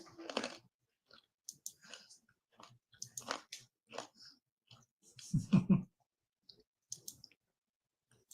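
Crunchy banana chips are bitten and chewed close to the microphone, making a string of sharp crisp crunches and clicks with quiet pauses between bites.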